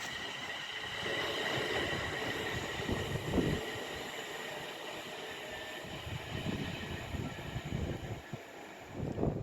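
A Pendolino train at Rugby on the West Coast Main Line rumbles past steadily for the whole stretch, a broad, continuous rolling roar with faint squealing wheel tones and a few sharper knocks.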